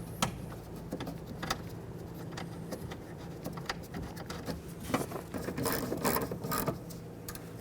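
A ratchet makes quiet, irregular clicks while snugging the window regulator mounting bolts inside the front door of a 2004-2015 Nissan Titan, with small mechanical taps and a low background hum.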